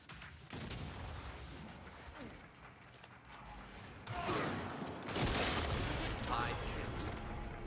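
Bulldog gun firing in the video game Gears 5, rapid bursts of gunfire and impacts with footsteps and mechanical clatter, growing louder in the second half, with voices talking over it.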